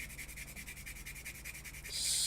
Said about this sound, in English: let's get our 400 sanding block instead